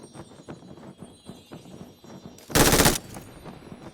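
Gunfire from the video game PUBG Mobile: a series of evenly spaced, moderate shots, then a short, loud burst of rapid automatic fire that ends as abruptly as it began.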